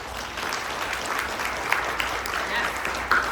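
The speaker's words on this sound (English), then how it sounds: "Please give them a round of applause." Applause at an International Women's Day keynote event, a steady moderate patter of many hands clapping in a hall, continuing evenly with a few sharper claps standing out.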